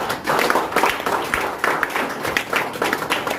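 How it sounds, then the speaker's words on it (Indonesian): Clapping from a small audience at a gold and business education seminar, loud and close with distinct individual claps forming an uneven rhythm. "Beri tepuk tangan untuk Bapak."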